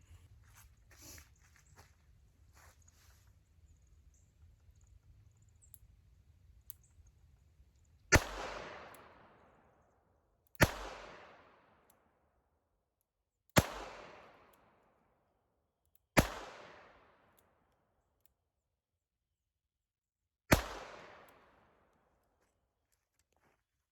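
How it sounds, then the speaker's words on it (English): Five sharp gunshots from a Smith & Wesson M&P 340 revolver firing light reloads at 5 yards, evenly spaced about two to three seconds apart, each a loud crack with a decaying tail after a quiet low hum. "So again, 5 yards with the M&P 340, and let's get shooting."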